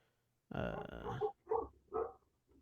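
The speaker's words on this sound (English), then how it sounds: "There's a dog outside." A dog barks outdoors in a short series of three or four fairly close, clear barks with brief pauses between them, no talking.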